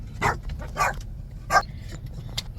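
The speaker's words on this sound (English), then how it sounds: "This is another dog." A dog barks three times in short, spaced yelps on a rural South African farm, loud and close, with a quieter bark trailing after.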